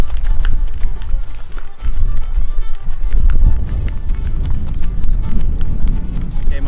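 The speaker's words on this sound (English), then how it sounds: "this is a canter, or in Western, they would call this a lope" A horse canters, or lopes, with rhythmic three-beat hoofbeats thudding close and loud throughout, while a person talks over the hooves.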